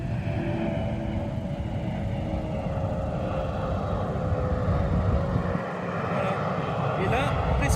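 An airplane passing overhead, heard from an open-roof Mazda MX-5 RF: a steady, loud engine roar that holds throughout, with voices talking over it.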